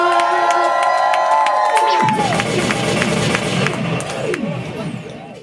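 A big crowd at a music listening party erupts into loud cheering, whooping and shouting, with scattered claps, following a sustained tone, then gradually tapering off.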